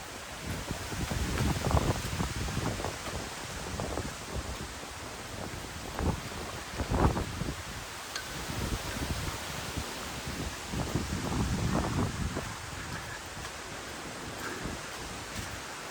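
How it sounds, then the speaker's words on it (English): Steady wind blowing at Dam Flask Reservoir near Bradfield in the Peak District, a broad rushing roar with repeated louder buffeting gusts against the microphone, continuous and alone without talk. "that is the wind that's moving my gimbal"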